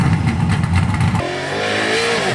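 A 1965 Ford Mustang with a 363 stroker engine and Super Trap exhaust revs hard, a loud close roar that drops sharply to a rougher, lower idle burble partway through.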